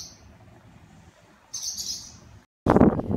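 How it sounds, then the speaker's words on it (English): Baby birds in a nest give thin, high chirps in short bursts, faint at first and then stronger, followed by a sudden louder burst of close noise. "Little baby birds in a nest."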